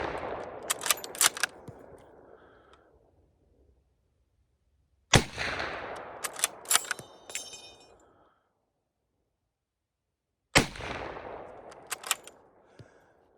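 Three separate loud rifle shots from a Berthier M1907-15 firing 8mm rimmed rounds, spaced about five seconds apart, each a sharp crack with a ringing, decaying echo across the range and quiet between shots.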